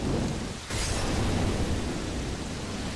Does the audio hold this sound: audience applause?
no